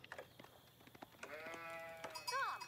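A sheep bleats in the Age of Empires 4 video game, a drawn-out wavering bleat followed by a shorter one, quiet against soft game clicks and effects.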